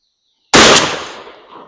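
A 12 gauge shotgun loaded with 3-inch shells fires once during wad testing, a sharp, very loud close blast after silence, trailing into a decaying outdoor echo.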